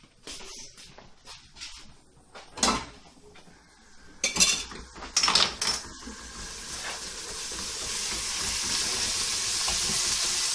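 Ginger and garlic hit hot oil with softening onions in a saucepan, a soft sizzle rising steadily over a few sharp clanks of a pan and utensil, with no talk.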